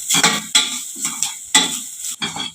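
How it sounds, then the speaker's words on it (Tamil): Masala sautéing in a pan over low heat, a spoon scraping and stirring in several distinct bursts with a soft sizzle between strokes, close and fairly loud. "இப்போ இதை ஒரு 2 நிமிஷம் நல்லா வதக்கி விட்டுக்கலாம்."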